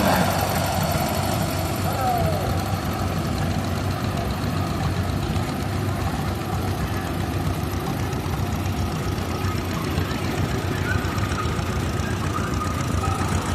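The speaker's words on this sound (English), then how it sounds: "This is a 1945 John Deere Model E, owned and operated by Eric Wilson." A 1945 John Deere Model E engine runs steadily through a threshing show parade of power, a continuous loud low chugging drone under an announcer's voice and outdoor crowd noise.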